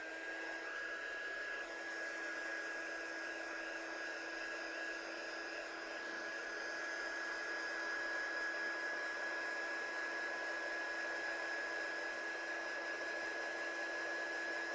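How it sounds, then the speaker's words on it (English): A heat tool drying stamped ink on a paper card, blowing a continuous, even whirring hiss with a steady high whine, close and loud for the whole stretch. "Now let me just dry this off so I don't get paw prints."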